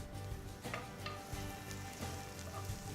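Minced garlic and diced red onion sauté in oil in a stone ceramic pot, making a soft, continuous sizzle with light crackles throughout, fairly quiet and close, with no talking.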